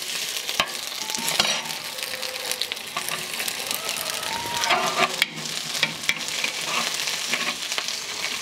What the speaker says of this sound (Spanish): Miren, ya está bien así doradita la cebolla